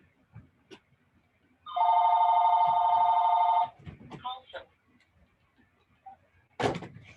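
A telephone bell rings loudly for about two seconds in one sustained burst, followed by a few clunks and knocks as it is silenced, then a sharp thud.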